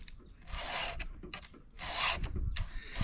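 A round file rasping across chainsaw chain teeth in short, close scraping strokes, about four strokes with brief gaps between them.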